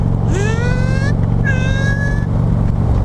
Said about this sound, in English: I'm sure it's tranny sound, but oh god, that sounds good.